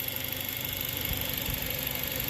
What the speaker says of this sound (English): the power steering pump's starting to go bad again.